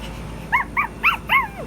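A dog in the APB video game whimpers in four short, high, whiny yelps, evenly spaced over a faint background hum, with no talking.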